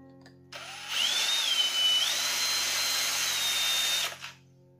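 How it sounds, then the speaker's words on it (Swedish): Power drill boring through the check valve at the top of a gas canister, a steady whining drill tone with a rising then levelling pitch that runs for about three seconds, close and alone. "Nu börjar jag ju att borra igenom backventilen"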